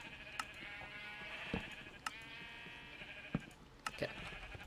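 Sheep in a Minecraft-style video game bleat several times, faint and somewhat distant, over a steady background hum with a few short clicks.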